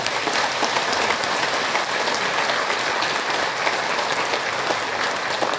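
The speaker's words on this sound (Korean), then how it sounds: "축하의 박수 한번 쳐주세요." A church congregation at an Easter Vigil Mass claps for six newly baptized members, a loud dense continuous wash of applause filling the room, no voices over it.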